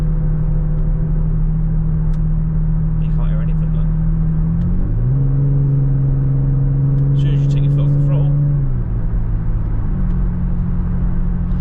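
A Jaguar XF 3.0 V6 petrol with its backbox deleted cruises along, a steady low engine drone throughout, with the pitch shifting down between gears and then settling, heard from inside the car.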